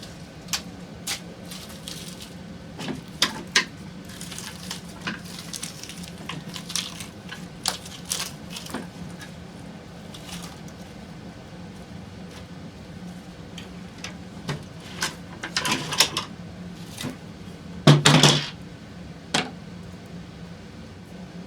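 A foam rubber hatchet is peeled out of its mold, giving scattered soft crackles, ticks and tearing squishes, with a louder ripping burst near the end.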